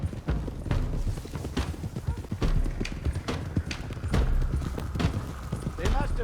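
Horses gallop in Red Dead Redemption 2, a steady rhythmic clatter of hooves close by, mixed with rumbling low noise and an occasional whinny, continuing throughout.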